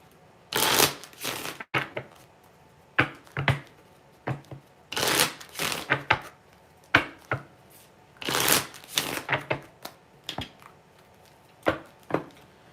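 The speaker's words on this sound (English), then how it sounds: "Let me shuffle up the cards really quick." Tarot cards are shuffled by hand in quick, crisp riffles and taps. The bursts come in irregular clusters with brief pauses, close and fairly quiet.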